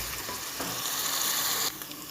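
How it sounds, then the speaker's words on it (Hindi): Garlic ginger paste fries in a pan with a steady, bright, close sizzle that swells briefly while being stirred, then eases slightly, with no voices. "ये देखें इसमें 5 मिनट लहसुन अदरक का पेस्ट अच्छी तरीके से फ्राई हो गया"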